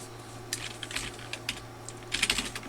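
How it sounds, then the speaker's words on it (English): Code being typed on a computer keyboard, with close, quick, irregular key clicks in short bursts and a busier flurry near the end, no voices. "Type a little code here and whatever, doesn't really matter what it is."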